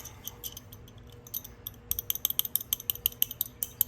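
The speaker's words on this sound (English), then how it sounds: "We have a 6-inch adjustable wrench, crescent wrench." Small metal clicks and a faint ratcheting tick come from a 6-inch adjustable crescent wrench with loose jaws as its jaw is adjusted, with sparse clicks at first and then a quick, steady run of light ticks, close and quiet.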